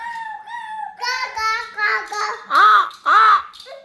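A young child imitates a crow cawing, producing a string of short, rising-and-falling vocal calls that grow louder toward the end, close to the listener.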